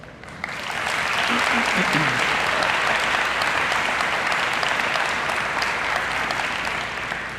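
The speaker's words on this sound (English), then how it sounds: "And they also deserve a round of applause." Sustained audience applause at a high school senior honors night, loud and dense from the start and holding steady throughout, with faint voices briefly surfacing beneath the clapping.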